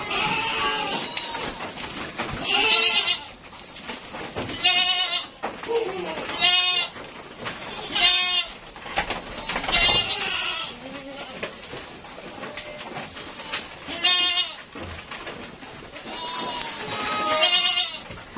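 Several goats bleat in a pen on a farm, their wavering calls coming in repeated bursts at close range, loud and overlapping, while people talk in the background.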